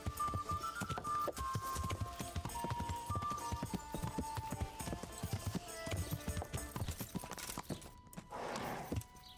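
Horse hooves clip-clopping in the medieval video game Kingdom Come Deliverance, a dense, steady run of hoof beats close up over game ambience, ending in a brief burst of noise.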